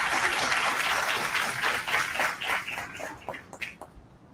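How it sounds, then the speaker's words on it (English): Graduation audience applauding the teachers at a 2023 MAS ceremony, a dense crowd clapping that holds steady and then thins into scattered individual claps toward the end. "give the teachers a round of applause"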